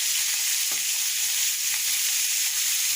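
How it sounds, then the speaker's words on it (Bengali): Fish slides gently into hot oil and fries with a loud, continuous sizzle, with a brief crackle as it goes in. The hiss holds steady and close. "আস্তে করে মাছটাকে ছেড়ে দেয় তাহলে আর তেল ছিটবে না"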